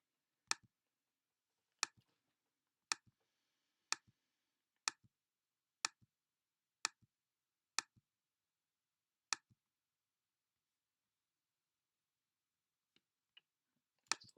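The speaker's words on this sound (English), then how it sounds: "So we gotta click more." Computer mouse clicking while working in Stata, about ten sharp, evenly spaced clicks roughly once a second, close and clear in a quiet room, then a short pause and a few fainter clicks at the end.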